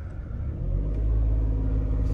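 A 2017 Maruti Alto K10 pulls away in first gear, its small engine rumbling up from idle into a steady, close, low drone that holds level with no talking.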